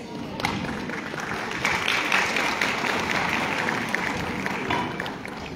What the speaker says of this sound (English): With thunderous clap, let's welcome our small wonders.